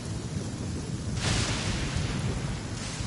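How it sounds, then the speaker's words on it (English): Thunder from a lightning strike in Genshin Impact rolls in as a sudden broad rumble over a steady wash of rain and wind, holding loud for about a second before easing back into the storm noise. "Don't stand too close to me, or you might get hit by lightning too"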